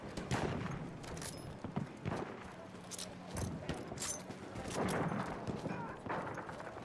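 Battlefield 1 gameplay gunfire: bursts and single shots crack out irregularly through the clip, some sharp and near, others more distant. A player talks quietly over the action.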